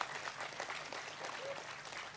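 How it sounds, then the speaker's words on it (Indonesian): An audience applauding at a cultural talk, a short, soft spell of many hands clapping heard from afar, low in level and steady before tapering off. "Tepuk tangan."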